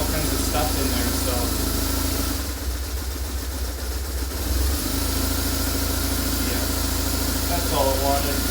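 A BMW R850R motorcycle engine running steadily after being cranked, a loud close idle with a constant low throb throughout and a brief dip in the middle, with a voice talking over it.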